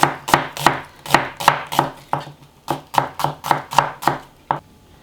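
A knife slices thin pieces on a cutting board while chonggak kimchi is being made, giving a brisk, even run of about fourteen crisp, close chopping strokes with short gaps.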